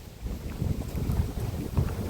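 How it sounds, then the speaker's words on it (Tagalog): Steady low wind rumble buffeting the microphone in a park, gusting a little louder at moments, with no voices. "Ang sarap ng hangin. Ang lakas maka-fresh."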